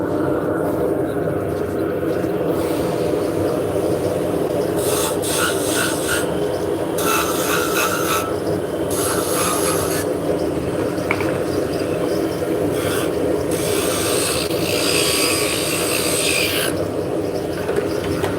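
A wood lathe spins a wooden shaft with a steady mechanical whir and hum, running continuously at close range while a person talks over it.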